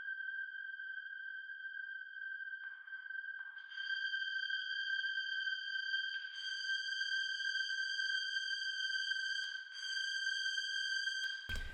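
Synth string part from a techno remix: sustained, steady tonal layers that stack up as more voices enter, with soft noisy swells in between and a sharp burst at the very end, no talk.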